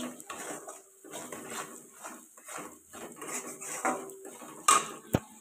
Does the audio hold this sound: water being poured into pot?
no